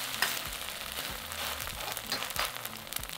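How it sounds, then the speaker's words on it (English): Egg mixture frying in a hot wok as a thin omelette for mee siam, a steady close sizzle with soft crackles and occasional scraping as the pan is moved. "Add 1/2 of the egg mixture to the wok and move around the pan to create a thin omelette."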